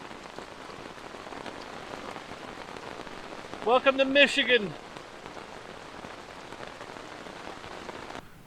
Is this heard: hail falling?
yes